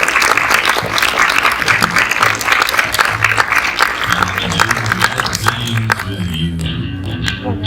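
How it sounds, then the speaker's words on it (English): A horror convention audience claps loudly and steadily for guests Dennis and Anna, a dense burst of applause that thins out toward the end, with a voice murmuring faintly beneath it. "Applause, please, for Dennis and Anna."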